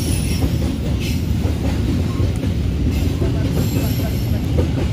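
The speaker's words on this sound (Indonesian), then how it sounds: "Ini masuk jalur 1 stasiun Cepu NIS." Train rolling into track 1 at Cepu station in Central Java, Indonesia, a steady heavy rumble of wheels and carriages with faint high squeal, continuous and close throughout.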